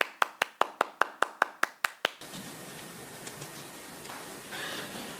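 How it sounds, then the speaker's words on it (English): About ten sharp, evenly spaced claps from a county assembly ring out in a steady rhythm, then stop, leaving faint background noise. "they continued clapping enthusiastically"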